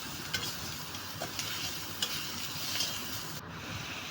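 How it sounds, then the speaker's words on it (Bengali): Onions fry in a pan with a little ginger and garlic, making a constant close hiss and sizzle broken by a few light stirring knocks. "সুন্দর মতো একটু ভাজা ভাজা করতেছি। একটু অল্প একটু আদা রসুন দিয়ে দিলাম।"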